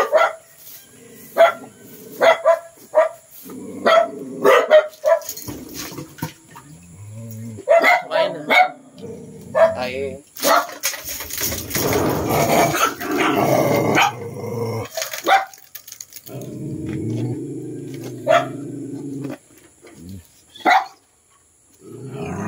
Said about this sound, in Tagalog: bahay na may umiiyak na aso